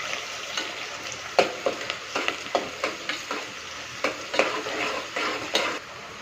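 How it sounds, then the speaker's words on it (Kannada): Sliced onions sizzling in hot oil for chicken pulao, a steady frying hiss broken by regular scraping stirs of a spoon against the pan, close and alone without speech. "ಎಣ್ಣೆ ಕಾದಿದೆ, ಈರುಳ್ಳಿ ಹಾಕ್ತಿದ್ದೀವಿ."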